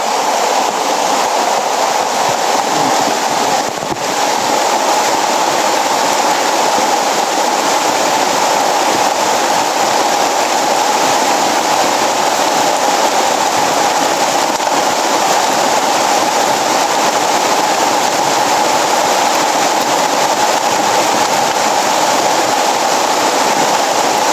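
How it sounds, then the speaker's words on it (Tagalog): Dense, steady hiss of heavy rain pouring continuously without pause, loud and enveloping throughout. "Nakikita nyo naman yung sobrang lakas ng ulan."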